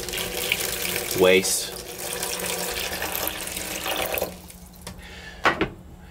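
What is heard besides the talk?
water poured into an Incinolet incinerating toilet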